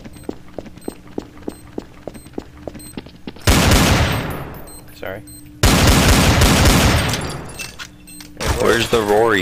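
Counter-Strike: Source gunfire starts as a rapid series of light ticks, then breaks into two long, loud bursts of automatic fire, each tailing off, followed by a final ringing shot, with faint talk in the background.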